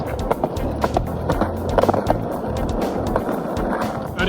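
A skateboard rolls over pavement in Culver City, its close, gritty wheel rumble running throughout, with a cluster of sharp clacks from pavement joints midway.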